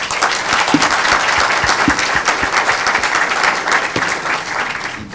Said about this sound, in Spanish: Les pido un aplauso para los tres.